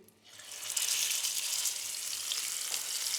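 A rib steak sizzles in melting butter in a very hot frying pan, a steady, bright crackling hiss that swells after a quiet start and continues without talk.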